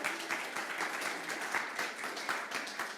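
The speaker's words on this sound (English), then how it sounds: "We're clapping for our prayer chaplain, Carol." Steady audience clapping for a prayer chaplain at a Sunday church service, a soft, even patter of many hands heard from a slight distance without speech.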